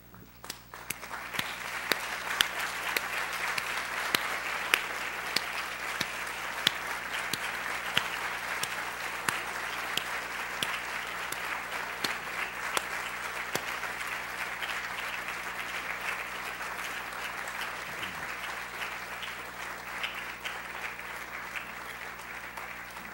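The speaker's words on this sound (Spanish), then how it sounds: "que se paren, se den vuelta y le den un gran aplauso a sus padres" A large crowd at a university graduation ceremony breaks into sustained applause, a steady wash of clapping that continues for over twenty seconds in a big room.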